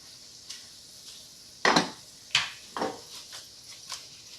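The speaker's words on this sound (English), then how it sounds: "We're going to mix it all up." A utensil stirring a white sauce of Parmesan cheese and cream in a pot, giving a few sharp scraping clinks at irregular intervals over quiet kitchen background.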